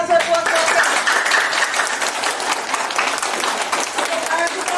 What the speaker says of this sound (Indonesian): Tepuk tangan sekuat-kuatnya.